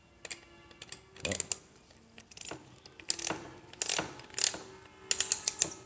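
A screw gun's depth clutch is adjusted on a tool used for metal studs, giving a string of small ratcheting clicks and mechanical ticks at close range in short uneven bursts.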